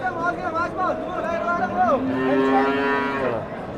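Cows moo nearby at a livestock market in long, drawn-out calls, one after another, loud and clear, with people's voices murmuring in the background.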